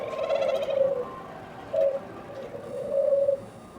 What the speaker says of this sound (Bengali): নিচে কবুতর আছে দেখেন এই কবুতর আছে